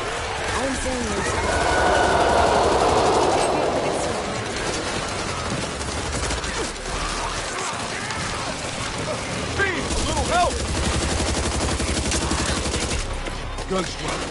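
Gunfire in the video game Back 4 Blood comes as a dense, continuous barrage of shots and rattling bursts, loud throughout and mixed with voices.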